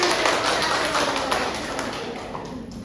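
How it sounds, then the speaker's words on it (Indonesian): Students in a classroom clap together in a dense, close patter of many hands that holds steady and then gradually thins out. "Tepuk tangannya."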